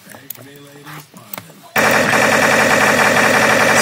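A physics gun in Garry's Mod firing bullets as a Counter-Strike Source weapon, a sudden, loud, sustained rapid burst of automatic gunfire that begins after a few quieter clicks and keeps hammering steadily to the end.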